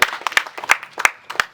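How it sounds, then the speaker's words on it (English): An audience at a ceremony about the refurbished Namboole stadium claps in short, scattered bursts, a handful of distinct sharp claps spread over about a second and a half, fairly close and without talk. "Let's clap for them."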